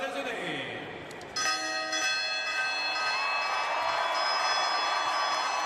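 A bell rung enthusiastically at a Paralympic athletics meet rings out in rapid repeated strikes over a constant stadium crowd murmur, its tones sustaining and layering as the ringing continues.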